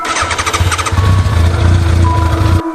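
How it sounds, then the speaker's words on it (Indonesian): A motorcycle engine cranks and catches, then revs with a loud, throbbing putter close by before cutting off at the end. "Tiba-tiba mesin motor Ardi menyala sendiri"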